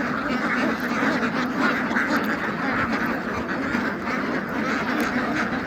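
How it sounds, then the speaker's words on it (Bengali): Flock of around a thousand white Pekin ducks on a farm, quacking continuously in a dense, moderately loud chorus with no talk over it. "এখানে প্রায় 1000 খানেক হাঁস আছে"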